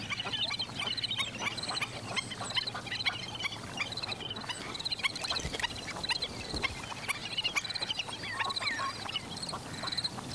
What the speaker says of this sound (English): The crisp yipping sound is a black-necked stilt.